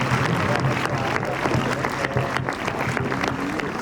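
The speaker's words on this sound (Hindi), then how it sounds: "तालियों की गड़गड़ाहट रुकनी नहीं चाहिए।" A crowd at a school reunion welcome event claps loudly and continuously. The sustained, thick applause sounds close and fills the room without a break.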